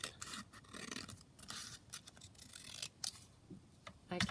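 Scissors snip through a paper picture being trimmed into a junk journal tag, a quick run of close, crisp cuts with short pauses between them, faint and alone with no talking.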